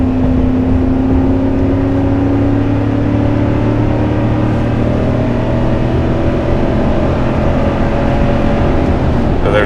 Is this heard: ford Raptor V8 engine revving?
yes